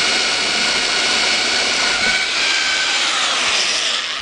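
A rotary hammer set to drill-only mode bores into wet brick, giving a loud, steady, high-pitched grinding whine that runs unbroken through the whole stretch with no voices.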